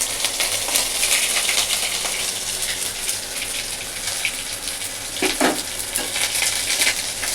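Whole spices hit hot oil in a pan: bay leaf, whole chilli, panch phoron and cumin crackle and sizzle loudly and steadily, with a brief sharper hiss partway through and no talking.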